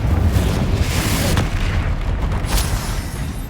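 A Confringo spell explodes in Hogwarts Legacy with a loud, booming blast that fills the whole stretch and tails off in a rumbling decay.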